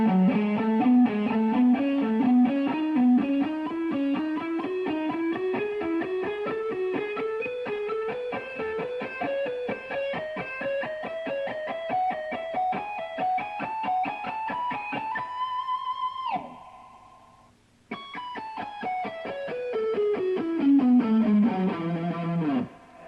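Electric guitar lick played fast in a shred style with a distorted, effected tone: a rapid stream of picked notes climbing steadily upward, briefly breaking off near the end before a quick descending run, loud and alone.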